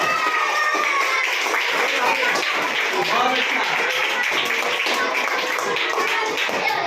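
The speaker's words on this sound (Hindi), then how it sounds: "सबको ताली मारनी चाहिए" Students clapping in a school classroom during a quiz, scattered claps and taps mixed with a teacher's voice and classroom chatter throughout.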